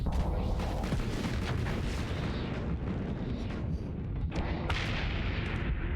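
Heavy point defense gun firing in the space combat game Starsector, a dense barrage of booming bursts and rumbling blasts filling the scene loudly and continuously.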